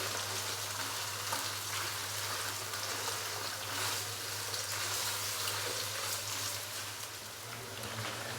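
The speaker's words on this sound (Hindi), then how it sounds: "चिकन को तकरीबन 3 से 4 मिनट के लिए अदरक लहसुन के पेस्ट के साथ भून लेंगे" Chicken frying with ginger garlic paste in a pan, a steady dense sizzle like rain hissing throughout, with a low constant hum underneath and no voices.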